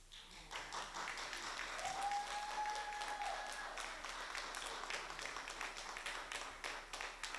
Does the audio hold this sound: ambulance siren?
no